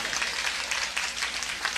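Applause from an audience at a Bhojpuri-language gathering in Patna, a dense, steady patter of many hands clapping that carries on through the whole stretch with no voices over it.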